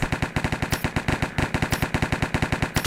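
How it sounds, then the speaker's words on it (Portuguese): Rapid automatic gunfire from a CS:GO-style mod of the Minecraft video game, a steady stream of loud, evenly spaced shots filling the whole stretch with no talk over it. "Vou matar aquele ali com a granada."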